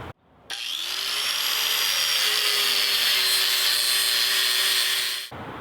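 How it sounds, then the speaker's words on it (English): A power grinder works down a steel winch mount for a VW rescue rig. It spins up after a brief pause, holds a loud, sustained high whine for about five seconds, then cuts off. "So I'll go ahead and get this ground down and we'll get this thing tacked on there."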